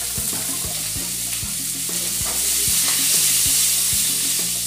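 Linguiça sausage pieces and onion fry in a pan with a steady, loud sizzle, while regular scraping strokes of a utensil stir them about once every half second throughout.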